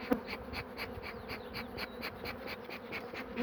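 Honeybees buzz steadily around an opened hive during an inspection of frames, a close, continuous drone with soft rhythmic pulses and no talk.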